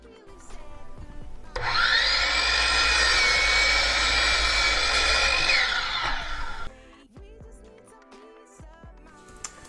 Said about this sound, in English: I'm cutting the treads to rough size. I cut them about an inch oversized just to make them easier to handle at first on the miter saw.